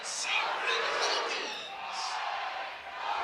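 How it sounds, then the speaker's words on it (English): A crowd at a college baseball game at Dudy Noble's stadium on a Friday night cheers and roars loudly after a two-run double, a broad sustained swell of voices rising and falling over a few seconds. "the crowd is really getting into it now at News Park on a Friday night in Stark Vegas"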